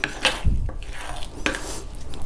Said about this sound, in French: on va remélanger un petit peu la panure